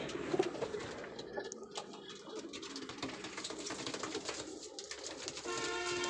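Pigeons coo softly amid a busy, rustling background, the murmuring calls blending with ongoing noise and occasional clatter.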